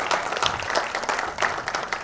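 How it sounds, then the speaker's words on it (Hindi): Audience applause at an album launch event, a steady crowd clapping that fills the full two seconds at moderate loudness without any voices over it. "तालियां एक बार।"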